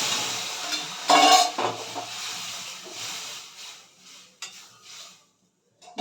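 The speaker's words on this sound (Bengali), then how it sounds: "ডালটাকে আমরা ঢেলে দেবো" Boiled dal poured into a hot pan of tempered spices for a Bengali dal with jute leaves, a loud hissing splash at first that fades into softer sizzling and scattered scraping stirs, then near silence.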